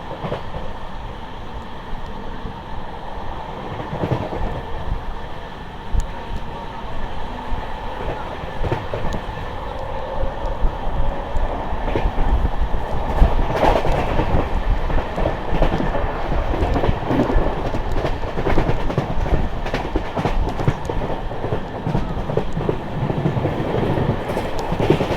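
Sealdah Ballia Express, a newly converted LHB train, running at speed, recorded from inside with a constant loud rumble and rhythmic clickety-clack of wheels over rail joints throughout.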